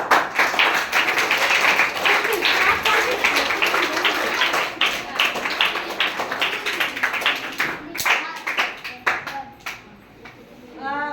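A group at a summer camp quiz claps in a dense burst of many hands, with speech mixed in. The clapping thins into scattered claps and voices toward the end.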